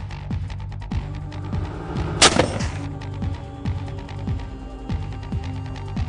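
The CARDOM 120mm recoil mortar, a vehicle-mounted auto-laying system, fires in a military demonstration. One loud, sharp blast stands out mid-way above steady rhythmic thumping and background music.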